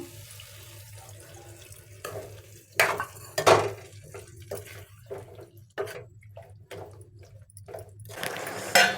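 Water is poured into a pan of kadai paneer with splashing bursts, alongside clinks of metal utensils and stirring sounds in a kitchen.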